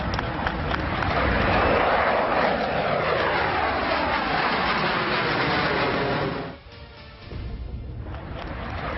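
Loud roaring jet rush from a Tejas light combat aircraft test plane on its first flight from Bengaluru airport, swelling and sweeping past, then dropping sharply before a softer continuing roar.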